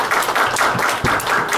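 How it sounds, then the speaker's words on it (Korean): A church congregation claps together in a short, dense burst of applause filling the room, with a few sharper taps standing out. "한번 박수 부탁드리겠습니다."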